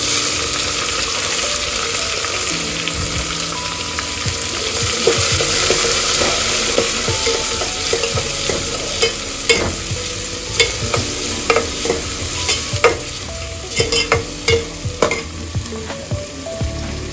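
Onion frying and being stirred in an oil-filled pan, with cashews already added, for capsicum rice. A steady hiss of sizzling runs throughout, with scraping spatula clicks that grow sharper and more frequent toward the end; no voices.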